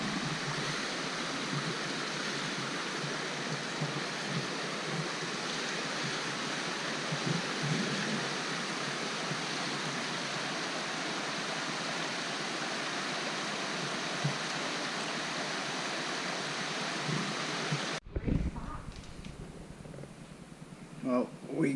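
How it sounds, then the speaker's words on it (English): A small waterfall in Cook Forest rushes with a constant, broadband roar that fills nearly the whole clip before cutting off abruptly into quieter outdoor ambience. "that's a cool little waterfall"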